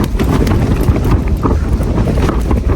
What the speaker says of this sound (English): Right, well, the tent has been taking an absolute beating. Wind's pretty crazy.